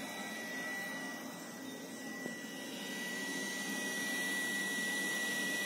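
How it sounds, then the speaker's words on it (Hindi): The cooling fan of a bright LED headlight for bikes and scooters runs with a steady whirring hiss and a faint high whine, soft and continuous throughout. "आप इसके फैन का साउंड भी सुन सकते हैं।"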